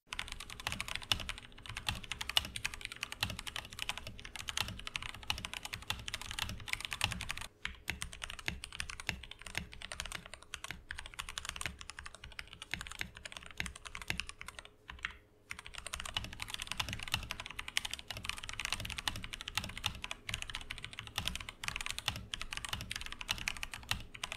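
Rapid, continuous typing on a tape-modded mechanical keyboard, close and clear, keys clacking steadily with a few brief pauses and no voices.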